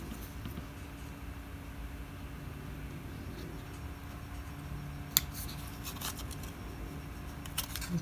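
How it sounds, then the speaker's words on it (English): Scissors trim paper for a junk journal hinged pocket, a couple of quiet sharp snips and light rustles near the end over a faint steady background hum. "Let's see what else needs to be trimmed off here."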